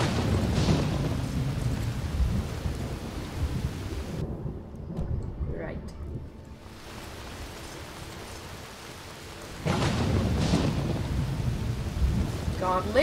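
Steady rain with low rumbling thunder in Skyrim that drops away briefly to near silence when the map opens, then the storm returns at full strength.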